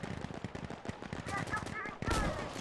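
Shotgun fire in the shooter Insurgency: Sandstorm, a rapid string of sharp loud blasts amid other gunfire, ending in a bright heavy burst, with speech-like sound mixed in.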